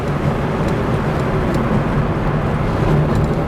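A Porsche 911 with a racing H 901/902 transmission cruises in fifth gear, a loud, steady engine drone and road rumble without letup.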